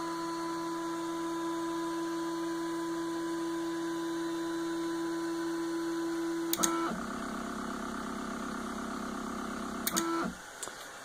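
A ShapeOko CNC router homing its axes with limit switches: a steady motor whine and hum runs throughout, broken by two short shifts in pitch as the axes move and stop, close and alone.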